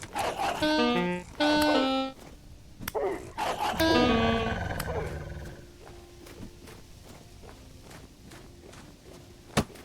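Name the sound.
white wolf roaring in a video game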